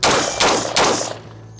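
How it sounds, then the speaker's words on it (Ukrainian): Three sharp, loud carbine gunshots fire in quick succession, each cracking close by and ringing out briefly before fading. "Серія пострілів, три постріли"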